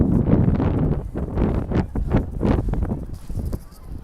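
Strong wind blowing outdoors at a sports field in Omaha, gusting loudly into the microphone in rough surges that fade slightly toward the end, with faint voices underneath.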